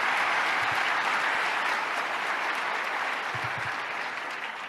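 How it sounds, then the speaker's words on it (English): An audience applauds at the New York State of the State address, a dense, steady roar of clapping that holds strong throughout and eases slightly toward the end, with no talk over it. "Let's give them a round of applause."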